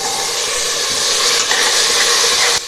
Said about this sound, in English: Once the ghee is heated, I'm adding the slit green chili and the jeera.